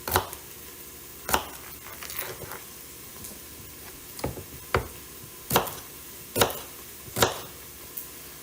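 A knife chops celery on a cutting board for a beef stew, giving sharp, irregular strikes spread across the stretch, some single and some in quick pairs, close up and clear with no talking.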